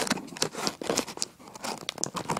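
Crinkly tearing and crunching of packaging cut open with scissors while unboxing a Mamba Micro Pro 4200kv motor, a busy run of close rustles and rips with short sharp bursts.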